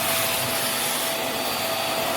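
Vax Mach Air upright vacuum cleaner running on low pile carpet, a loud, steady high-pitched whine and airflow roar with a constant tone, heard close up and uninterrupted.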